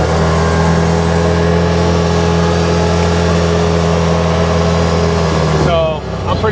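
An Odes/Massimo 1000cc X4 LT UTV engine, freshly fitted with a new drive belt, idles with a steady low hum and then shifts in tone near the end.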